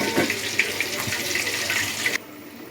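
A pot of spicy fish curry, kara podi meen kuzhambu, simmers to a boil with a constant bubbling hiss and small pops, close and even, before the sound abruptly quiets.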